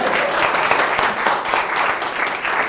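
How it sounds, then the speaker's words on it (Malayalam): A live audience at a Malayalam crowd-work comedy show in Kochi claps in a sustained, even burst of applause, loud and close, with no voices on top. "ഒരു കൈയടി വെറുതെ"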